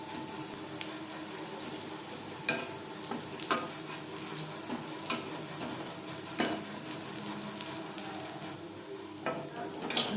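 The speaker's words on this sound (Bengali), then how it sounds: "দু তিনবার উল্টে পাল্টে ক্রিস্পি করে ভেজে নেব" Jute leaf fritters fry in oil over a low to medium flame, giving a continuous crackling sizzle broken by sharp pops and the clink of a spatula turning them, with no one speaking.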